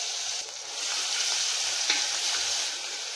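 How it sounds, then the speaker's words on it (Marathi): A paste of green chili, coriander and garlic sautés in a pan, with a continuous bright sizzle, soft stirring scrapes and a faint tap or two. "हे थोडंसं परतून घ्यायचं"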